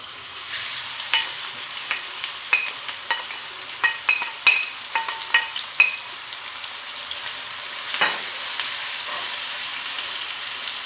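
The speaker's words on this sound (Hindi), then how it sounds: "अब इसमें मैं प्याज ब्राउन करूँगी।" Onions frying on low heat in a kadai with a cup of oil give a steady sizzle, broken by a series of sharp spoon clinks against the metal. No one talks.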